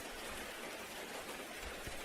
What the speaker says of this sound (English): Why are you out in the rain?